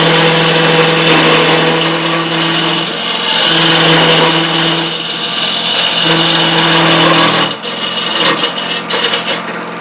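Wood lathe motor spinning up to roughly 1200 RPM, a loud steady whine with strong humming tones that waver and restart in cycles, then give way to rougher scraping noise near the end.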